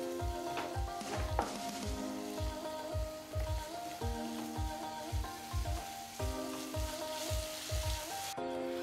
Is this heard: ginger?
yes